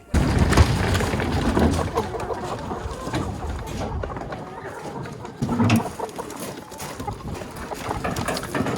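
Young hens packed in crates, clucking and shuffling at a farm; scattered soft clucks and rustling mix with someone speaking nearby over a steady background hum.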